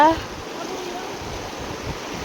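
A flowing river stream outdoors, a steady broadband rushing wash heard at moderate distance, with a brief voice-like tone at the very start.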